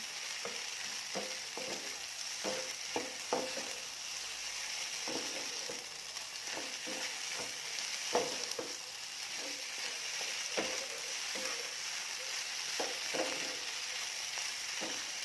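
Vegetarian Shanghai noodles with pork substitute being stir-fried in a pan, with a steady, close sizzle broken by frequent scraping and clacking stirs of the spatula throughout.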